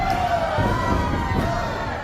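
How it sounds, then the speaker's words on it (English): A wrestling arena crowd roars in a steady, loud wash of cheering and shouts, with a faint whistle-like tone running through it. "listen to that crowd"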